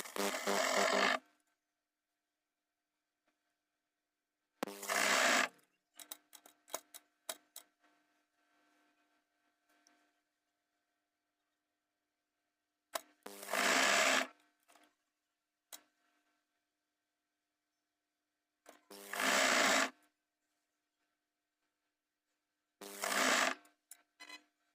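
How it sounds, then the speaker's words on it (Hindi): A sewing machine stitching elastic into a trouser waistband, heard in short, separate bursts of fast mechanical whirring, spaced several seconds apart with quiet handling sounds between. "और इसको ऐसे रख के सिलाई लगानी है।"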